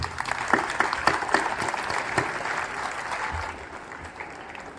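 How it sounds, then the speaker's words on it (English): A school audience at The Aryans' School year-ending ceremony claps for the house championship winners, a loud, dense round of applause that slowly thins and fades toward the end. "Let us give them a huge round of applause."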